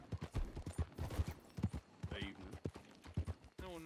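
Rhythmic clip-clop of horse hooves trots along steadily in Red Dead Redemption 2, with game sound effects and a voice talking over it.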